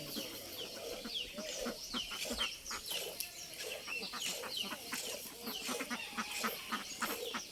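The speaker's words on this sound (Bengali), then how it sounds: "হাঁসগুলা ভালোই সুন্দর।" Ducks calling close by in a steady, overlapping chorus of quacks and honk-like cries that runs without a break and without clear speech.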